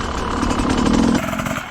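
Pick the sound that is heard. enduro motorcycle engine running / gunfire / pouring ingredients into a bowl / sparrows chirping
enduro motorcycle engine running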